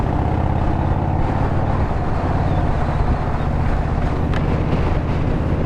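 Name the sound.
wind noise on microphone while riding motorcycle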